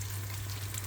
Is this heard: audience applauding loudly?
no